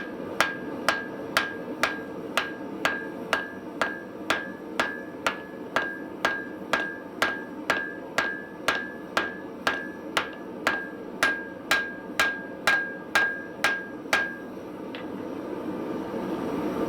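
Hot steel being hammered for the body of a 30 lb London pattern anvil, around twenty-five sharp ringing hammer blows in a steady even rhythm, close and clear, stopping near the end.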